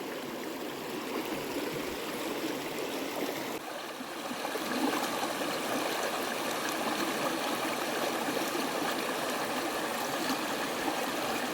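A shallow stream flows steadily and close by, a continuous broad rush of running water with soft trickling and no voices.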